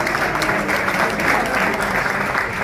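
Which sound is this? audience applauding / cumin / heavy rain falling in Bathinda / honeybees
audience applauding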